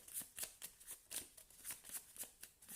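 Tarot cards being shuffled by hand in a steady run of quick, crisp riffling bursts, roughly four per second, close and fairly quiet with no voices over them.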